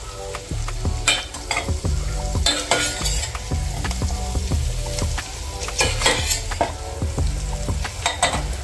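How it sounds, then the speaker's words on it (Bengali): Maggi noodles cooking in a pan, with a loud continuous sizzle under repeated stirring and sharp metallic scrapes and clinks of a utensil against the pan. "আমার আর স্বামীর জন্য এই যে ম্যাগি নুডলস রান্না করছি"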